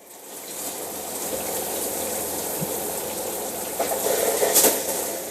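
Shower in a 2021 Grand Design Reflection 315RLTS RV running pink antifreeze while being winterized, a steady rushing spray of liquid, close and continuous, with a few sharper splashes near the end.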